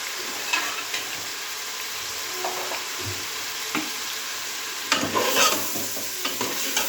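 Whole spices (cloves, fennel seeds, cinnamon pieces and cumin) are stirred in hot oil for an aloo gosht dish, giving a steady low sizzle with scattered scraping clicks and a louder stirring burst near the end, no talking.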